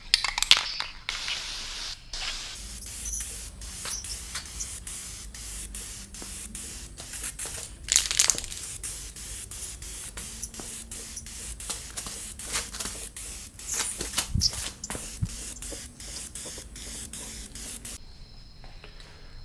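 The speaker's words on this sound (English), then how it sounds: "we are going to attack it with the second coat of primer" Spray can hissing out a second coat of primer onto a Honda K-series valve cover, in repeated short bursts and longer sweeps close by, with no talking.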